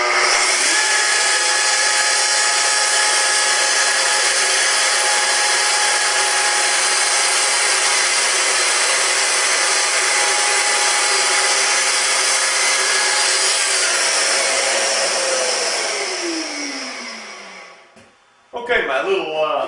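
A power saw trims the edge off a lightly clamped wooden workbench panel, giving a loud continuous whine that holds steady, then falls away as the blade spins down near the end.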